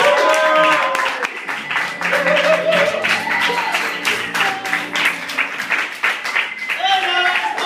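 Audience applauding at a small live show, a crackly burst of clapping mixed with cheering and chatter, and voices talking over it throughout.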